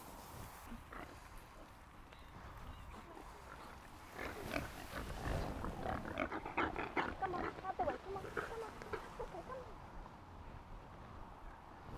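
Sick pigs on a free-range hog farm cough in rough, repeated bursts that grow louder in the middle stretch, with grunting and a voice talking over the herd.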